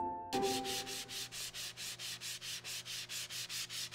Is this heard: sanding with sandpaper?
yes